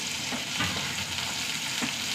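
Small shallots and dried red chilies sizzling loudly in hot oil, alongside mustard seeds, a steady crackling fry with brief spits and pops, close and alone.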